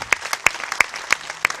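Sparse audience clapping at a Holi gathering poetry recital, about five sharp separate claps spaced evenly, close and fairly loud, with quiet background between.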